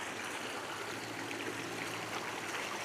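River water rushing after a flood in Bangkal, Davao City, beside a flood-control wall: a steady, full broadband roar of flowing water, continuous and fairly close, with no voices.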